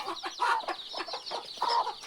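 A hen clucks in short repeated bursts, close and fairly soft, a rapid uneven series of throaty calls with no talk over them.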